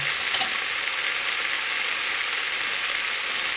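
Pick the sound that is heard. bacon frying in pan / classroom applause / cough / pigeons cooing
bacon frying in pan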